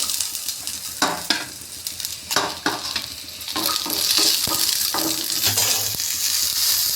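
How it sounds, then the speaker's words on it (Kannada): Garlic sizzles in a hot pan for milk sambar, with close stirring scrapes and clatter over a steady frying hiss that grows denser and louder. "ಹಾಗೆ ಬೆಳ್ಳುಳ್ಳಿ ಹಾಕೋತಾ ಇದ್ದೀನಿ"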